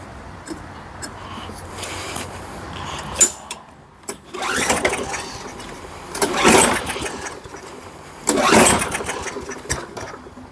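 An old engine that has sat unused for years is cranked and coaxed to start, giving several uneven sputtering bursts that catch briefly and die between quieter pauses.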